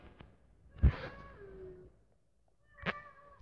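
A cat meows in a horror game about escaping Granny's house: a loud drawn-out meow followed by a second shorter meow a couple of seconds later, with no one talking.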